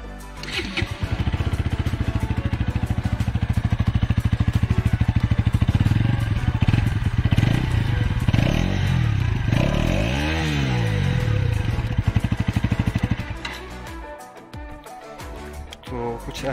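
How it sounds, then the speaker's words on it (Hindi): A Bajaj Pulsar NS200 BS6 2021 motorcycle idles with a deep, throbbing exhaust burble, rising briefly in a couple of revs before settling and cutting off near the end. "मैं आपको एक बार सुना देता हूँ एग्जॉस्ट नोट।"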